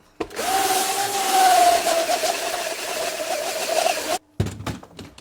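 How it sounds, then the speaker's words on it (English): A rotary brush spins up on its base in a workshop, giving a loud steady whirring hum for about four seconds before cutting off abruptly, followed by a few knocks and handling clatters. "This is a rotary brush. This just speeds the process up a little bit."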